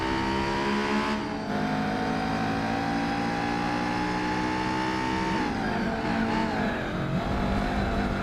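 Race car engines in Gran Turismo 4, with a Fiat Coupe among the field: a loud, continuous engine drone with rising pitch under acceleration, then a drop and shift around the five-second mark, with tire scrubbing and no talk.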